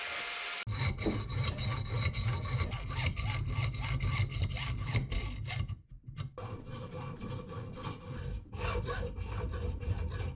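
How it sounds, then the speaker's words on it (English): A hacksaw cuts through a sword guard with fast, repeated rasping back-and-forth strokes, close and loud, briefly pausing near the middle before resuming. "So I'm just using the hacksaw for this."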